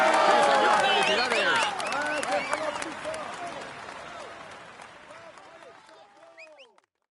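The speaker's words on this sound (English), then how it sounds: "let's applaud him once more." Crowd applause and cheering in the Tour de France 2018 video game ring out densely at first, with whistles and shouts over the clapping, then gradually thin and trail away to silence.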